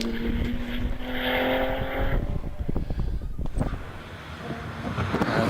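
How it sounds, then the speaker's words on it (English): A Porsche Boxster S engine revs hard as it drives into and out of a corner at a hillclimb, heard from trackside over steady wind buffeting on the microphone, the engine note shifting as the car passes. "Andy Fagan in the Porsche Boxster S into and out of Farmhouse."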